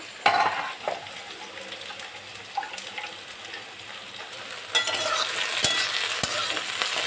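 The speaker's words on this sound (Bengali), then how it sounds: "এদিকে ভেন্ডি ভাজাটাও হয়ে এসছে ভেন্ডি ভাজা হয়ে গেল" Okra frying and being stirred in a pan, with a steady close sizzle broken by scraping strokes of a spatula and a louder burst of crackling near the end.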